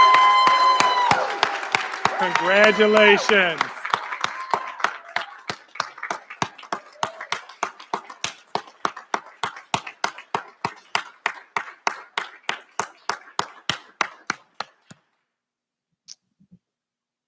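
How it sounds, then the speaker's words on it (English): An audience at a graduation recognition ceremony breaks into loud sustained applause that gradually thins to scattered individual claps before fading out, with a brief spoken congratulation near the start. "give them a rousing round of applause"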